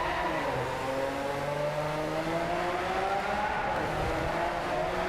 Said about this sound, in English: I'm hearing all these cars together. Sounds powerful.